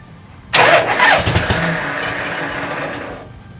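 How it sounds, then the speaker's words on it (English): Vintage Harley-Davidson Shovelhead motorcycle starter cranking the engine, a sudden loud noisy whir and grind that kicks in abruptly, then holds in a rough, rattling drone that slowly fades. "Starter makes some noise though, doesn't it?"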